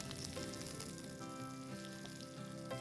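Mutton cutlets frying in a pan give a steady, close sizzle with small crackles throughout, continuous and fairly loud, with no voice over it.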